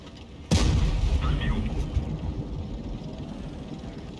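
A tank cannon shot goes off loud and sharp in World of Tanks Blitz, playing as the T-100 LT light tank, with a long rumbling tail and a voice talking over the noise.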